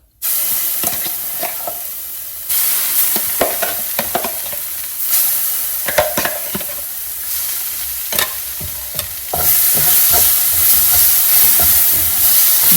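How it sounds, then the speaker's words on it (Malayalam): Coriander powder and spices frying in oil in a pan for chicken curry, with a loud, continuous sizzle and hiss and repeated scraping of a spoon stirring, up close with no talking. "മല്ലിപ്പൊടി, കാര്യങ്ങളും കൂടി ഇട്ട് ഇതൊന്ന് മൂപ്പിച്ചെടുക്കാം"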